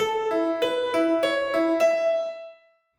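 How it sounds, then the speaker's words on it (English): A bright, slightly detuned synthesizer tack piano, played with the mod wheel down, plays a short run of about six plucky notes, each with a quick attack, ending on a note that rings out and fades. "There's a cool tack piano, again with the mod wheel down."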